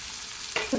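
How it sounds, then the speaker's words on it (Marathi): Soft frying hiss of garlic in a kadai, joined near the end by a brief stirring scrape and a louder burst of sizzle as onion is added. "कांदा व्यवस्थित परतून घेऊया"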